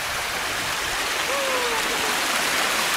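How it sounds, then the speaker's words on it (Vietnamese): A clear mountain stream flows in a steady, loud, broadband rush that fills the whole stretch without a break, with no talk over it. "nước suối của anh em mình sạch thế này"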